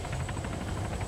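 Helicopter in the video game Arma 3, a steady loud rotor thrum with rhythmic blade pulses continuing throughout at close range.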